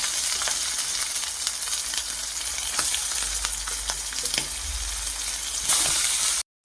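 Crushed ingredients sizzling in hot coconut oil in a wok, a steady close frying hiss with light stirring scrapes, louder near the end.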